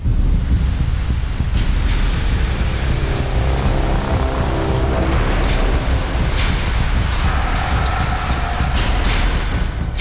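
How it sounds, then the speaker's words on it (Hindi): Heavy monsoon rain pours down in Navsari and Dang, Gujarat, a loud, dense, continuous roar of rainfall and rushing water that stays steady throughout without a break. "गुजरात के नवसारी और डांग जिले में पिछले 2 दिनों से हो रही भारी बारिश से नदियां उफान पर हैं।"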